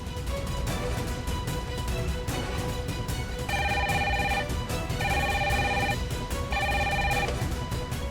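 A telephone rings in repeated electronic bursts, three clear rings over a constant background hum.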